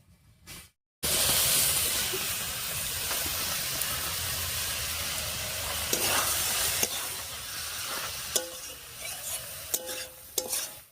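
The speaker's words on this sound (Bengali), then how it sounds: "এবার সেদ্ধ করে রাখা বাঁধাকপিটা দিয়ে দিচ্ছি।" Boiled cabbage tossed into a pan with potatoes and spices, sizzling and hissing steadily after a brief quiet start, with scraping stirs and a few clinks of the spoon near the end.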